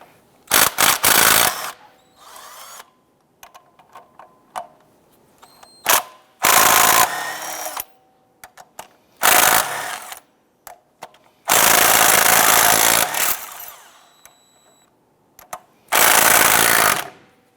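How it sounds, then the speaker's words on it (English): An impact tool fitted with a 16mm socket spins out the bolts of an engine bracket on a 2008-2013 Nissan Rogue, giving loud rattling bursts of a second or two separated by quiet gaps and small clinks of metal. "On this bracket here, there's going to be 5 bolts. These are going to come out with our 16mm socket."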